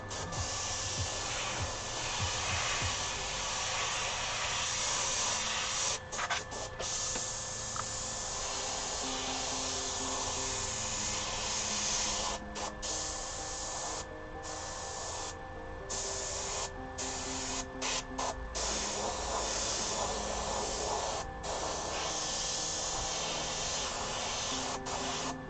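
An airbrush sprays paint onto camp chairs in a continuous steady hiss, close and even, with a few short breaks where the spray stops and restarts.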